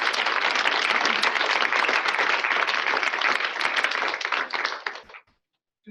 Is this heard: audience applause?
yes